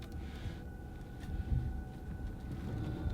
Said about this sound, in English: The only thing you hear is a little whine of the electric motor